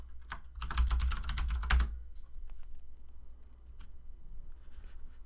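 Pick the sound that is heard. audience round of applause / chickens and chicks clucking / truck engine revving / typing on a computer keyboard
typing on a computer keyboard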